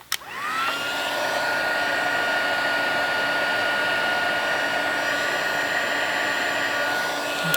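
A heat embossing tool blows hot air over cardstock, a close, loud, steady whooshing hum with a faint high whine, starting with a click and running without a break.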